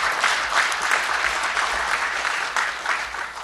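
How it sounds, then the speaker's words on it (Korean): Warm, steady applause from a seated audience at a parliamentary suicide-prevention forum launch in Korea, a continuous wash of clapping filling the room throughout. "관계자 여러분께 여러분 큰 박수로"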